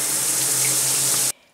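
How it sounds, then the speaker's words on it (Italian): Shower water pours in a loud, steady hiss close by, then cuts off abruptly after about a second and a half, leaving near silence. "Come prima cosa, una bella doccia perché ne ho un bisogno incredibile."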